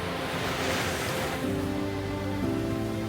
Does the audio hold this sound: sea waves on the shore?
yes